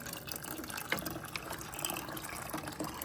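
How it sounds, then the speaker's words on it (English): Boiling water is poured into a pot of corn meal to make Zambian nshima, a quiet, continuous liquid pour and splash with faint drips, close by and without talk. "Then I get my boiling water and add it to the pot."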